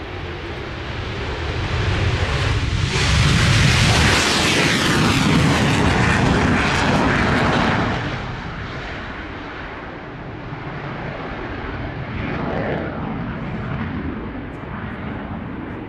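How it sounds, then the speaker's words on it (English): An F-16 fighter jet flying an air show display passes close with a loud, roaring jet engine sweep that peaks early, then fades to a steadier distant rumble before swelling again. "But coming up right now, we have the F-16 display."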